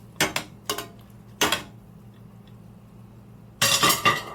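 Metal pot lid clinks and clatters against a stovetop pot holding carrot and chocho: three short separated knocks, then a louder cluster of rattling clanks near the end, close and sharp in a quiet kitchen.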